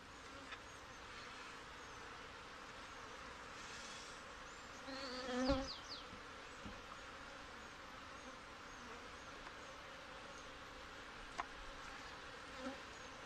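Honey bees at a swarming hive during an inspection fill the air with a faint, continuous buzzing drone, with a short louder swell near the middle.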